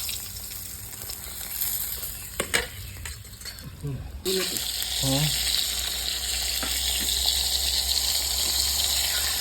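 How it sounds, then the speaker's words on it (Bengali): Rohu fish heads frying in hot oil give a loud, continuous bubbling sizzle close by, with a few clattering knocks and a brief stretch of voice under the frying. "মাছ মাথাগুলো ভাজা হয়ে গেছে"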